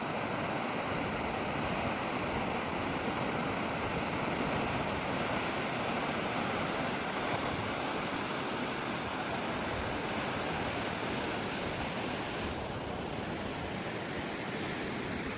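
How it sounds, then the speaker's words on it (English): Steady broadband rush of the Ganga river flowing at Devprayag, a continuous, even roar of moving water with no talk, holding constant loudness throughout. "watching the delightful Ganga streaming all along is surely a lifetime memory"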